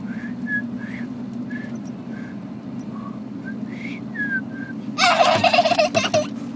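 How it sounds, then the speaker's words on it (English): A child whistling short, thin tones in a steady series of brief separate notes, close and fairly soft over a low background hum, followed by a louder burst of noise near the end. "There it is, the whistle."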